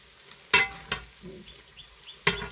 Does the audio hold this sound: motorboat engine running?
no